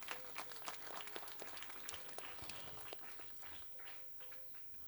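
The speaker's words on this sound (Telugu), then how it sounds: "చప్పట్లు కొట్టి అభినందనలు తెలియజేద్దాం." Faint applause from a congregation in a church in Hyderabad, a soft wash of scattered clapping heard at a distance for several seconds, fading slightly toward the end.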